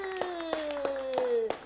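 A few sharp, separate claps ring out for a child during a speech-therapy session, sounding over a steady sung or hummed adult voice.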